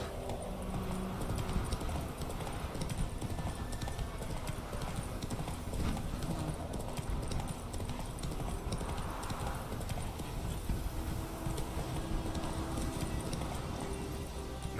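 Roach, a horse in The Witcher 3, gallops with a steady, rapid clip-clop of hooves that carries on continuously over ambient game sound, with a faint whinny.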